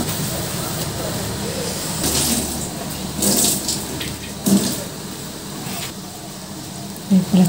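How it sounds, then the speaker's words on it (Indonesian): Hot water pours over onions for Balinese sambal, running as a soft, steady watery rush with a few louder splashy bursts nearby, while muffled voices murmur faintly beneath. "Ini bawangnya ini diseduh dengan air panas ya Bun"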